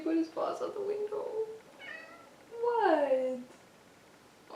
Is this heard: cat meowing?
yes